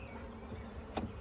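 Honey bees buzzing as a nucleus package is installed in a hive box, a steady close hum with a brief louder buzz near the end, no voices.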